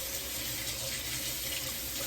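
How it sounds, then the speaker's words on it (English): Tap water runs steadily into a kitchen sink while a dish is rinsed, a close, continuous rushing splash with no talking. "let me rinse this off"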